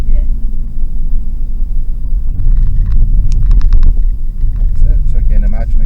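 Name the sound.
car engine running in second gear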